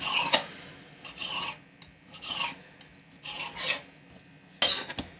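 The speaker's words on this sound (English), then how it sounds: "Now, cutting with the grain, we're gonna strip it." A knife slices raw chicken into strips with the grain on a cutting board for chicken cacciatore, giving repeated short rasping strokes in an uneven rhythm, close and fairly loud with no talking.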